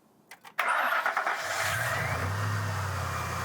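A 2004-2008 Ford F150 with a 4.6L or 5.4L V8, just fitted with a new power steering pump, cranks briefly and catches, then settles into a steady, loud idle with no other sounds.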